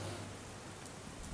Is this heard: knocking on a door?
no